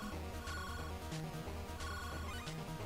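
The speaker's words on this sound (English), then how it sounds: "Answer a ringing phone" A ringing phone in the video game Alfred Chicken, a repeating electronic ring pattern with steady game music beneath it, no talk.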